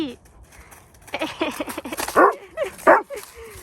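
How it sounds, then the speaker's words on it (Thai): A small dog yips and barks in short excited bursts while out for a walk in a German village, fairly close and loud, with a few whimpering yelps between the barks. "เห็นคนจะเห่าตลอดเลย"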